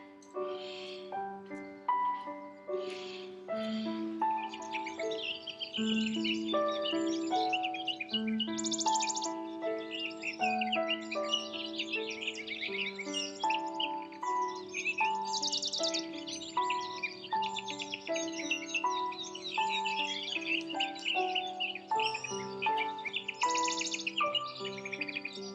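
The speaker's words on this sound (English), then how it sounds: "with the tape of birdsong" Recorded birdsong played from a tape at a zoo to a hand-reared chick: a steady stream of chirps, trills and melodic calls layered over one another, clear and continuous for the whole stretch with no talking.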